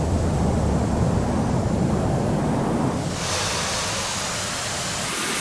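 Aircraft rolling off the runway in Microsoft Flight Simulator X, a steady loud rumbling engine and wind-like roar that thins into a brighter airy hiss partway through, with no voices.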